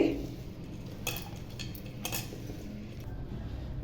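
A spoon stirs a snack mixture of beaten rice (poha) and onion in a bowl, with a few sharp clinks and soft scraping taps against the bowl, quiet and close, with no talking.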